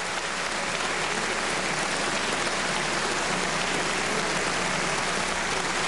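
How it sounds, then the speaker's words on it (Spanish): A standing ovation in parliament, dense continuous applause with no gaps that sounds like heavy rain, steady and loud from start to finish with no voices standing out. "Ovación de pie"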